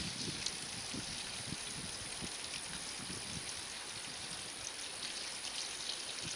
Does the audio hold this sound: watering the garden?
yes